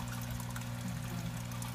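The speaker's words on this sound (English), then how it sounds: "the water... is pumped from here, overflows through here, through the filter, and then it's pumped back to the tank" Aquarium water pumped up and overflowing through a filter back into the tank, a steady close trickle and pour of running water over low pump hum.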